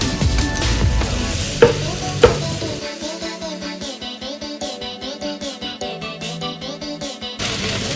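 Spinach tossed into soft gnocchi in a hot pan for a blue cheese and spinach gnocchi, with loud sizzling, a couple of sharp clatters, and then steady rhythmic stirring strokes close by and alone.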